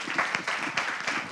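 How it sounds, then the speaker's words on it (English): Audience applause for panelists at the close of a fintech conference panel, a steady wash of clapping with brief louder swells, fairly near and without talk. "Please, a round of applause for our panelists."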